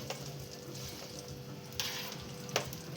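Chilies hit a hot pan in a home kitchen and sizzle steadily, with a soft, even frying hiss and a couple of brief clinks.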